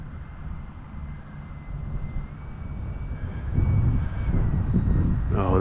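A jet-powered model flying wing cruises at half throttle, giving a steady whooshing turbine roar with a faint high whine that swells slightly louder toward the end as it passes.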